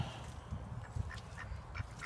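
Ducks quacking in a vegetable garden bed, a few short calls rising over a steady low outdoor rumble, moderately near and fairly quiet.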